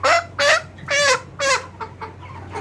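Chickens on a farm cluck close by while being weighed, with several loud, rhythmic clucks in a row followed by softer ones.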